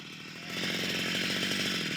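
A chainsaw runs at a steady high rev while cutting holes through thick frozen lake ice, loud and close, rising to full throttle after a brief idle.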